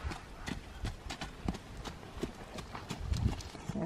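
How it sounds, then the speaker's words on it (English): A horse trots at an easy pace in an arena, its hooves clip-clopping in a steady, close rhythm, with faint voices in the background. "go ahead and pick up a little trot"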